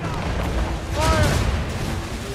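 Ship cannons boom in a naval battle in Assassin's Creed Rogue, a deep rumbling volley swelling near the middle under a shouting crew and music.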